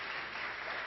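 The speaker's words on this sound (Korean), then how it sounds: "다시 한번 박수 칠까요?" A church congregation claps together in steady applause, dense and even throughout, with no voices over it.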